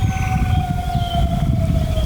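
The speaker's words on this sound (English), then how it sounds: "That's a wolf." A wolf howls during a turkey hunt, a long, steady, slightly falling wail carrying over outdoor wind noise without any talk.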